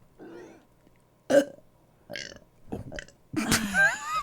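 A person burps on command several times in a row at a comedy show, short throaty belches separated by pauses, the last one loudest and longest, close and clear with no talk over them.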